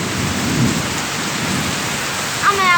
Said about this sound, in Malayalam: ഇടി വെട്ടുന്ന സൗണ്ട് കേൾക്കണമെന്നില്ലേ നല്ല ഇടി മിന്നലുണ്ട്